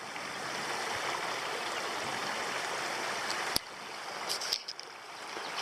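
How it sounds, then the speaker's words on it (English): Creek water from VC Falls in Tasmania flows steadily into a lake, a constant near rushing wash with a few brief knocks and rustles near the end. "Well, I've reached the point where the creek from VC Falls flows into the lake."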